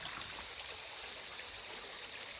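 Water flows out of a spring near a mango tree, a steady, even babble and trickle that carries on without a break, fairly faint, with no voices.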